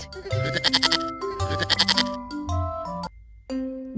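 A goat bleats in a quick series of wavering cries over a bouncy children's music track, with the tune continuing afterward.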